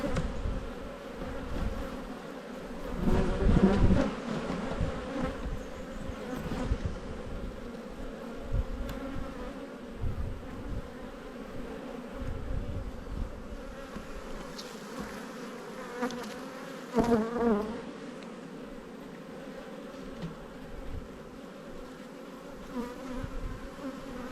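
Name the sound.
bees buzzing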